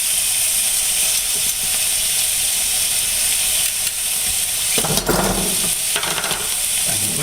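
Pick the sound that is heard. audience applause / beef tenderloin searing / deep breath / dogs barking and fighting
beef tenderloin searing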